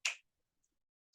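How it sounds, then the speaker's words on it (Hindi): A single crisp finger snap close by, a sharp click that dies away at once, followed by near silence and the start of a second snap at the very end. "यूं होता है, जैसे अभी चुटकी बजी है"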